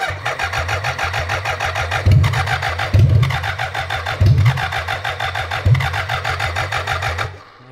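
A 1000cc BMW engine pulled from 15 years of cold storage is cranked on a bridged starter with no fuel pump, giving a close, loud, rhythmic churning with several heavier pulses as it catches and runs briefly before stopping.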